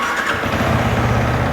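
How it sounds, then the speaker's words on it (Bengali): A Yamaha R15 V3 motorcycle, Indian BS6 version, fires up: a brief starter whir catches into a steady low engine throb within about a second, close and loud. "বাইকটা কিন্তু স্টার্ট হয়ে গেছে বন্ধুরা"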